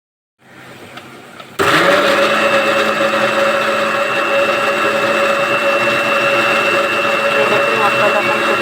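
Mixer grinder motor grinding spice masala, starting with a short low whir and then jumping to a loud, steady high-pitched grinding roar that runs without pause.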